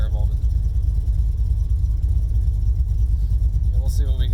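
A car idling through Flowmaster 40 series mufflers after a head gasket replacement, a steady deep low rumble with a rapid even pulse, loud and close throughout, with a brief voice near the end.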